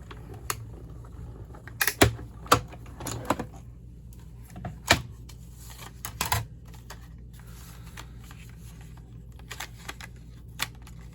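Scissors cut paper flowers out for a handmade floral card, with a few sparse, close snips and clicks scattered among quiet stretches.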